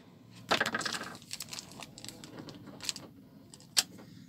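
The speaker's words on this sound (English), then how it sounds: "this tiny little envelope has arrived, and I'm going to be opening it in a second." A tiny paper envelope holding a plastic shim kit for sailboat portlights is torn and rustled open up close, with a burst of crinkling, small clicks and taps, and a sharp snap near the end, no talking.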